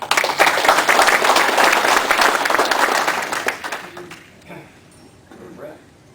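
A room of lodge members at an installation ceremony gives a round of applause for the meal contributors. Dense clapping runs for about four seconds, then fades into scattered claps and quieter room sound.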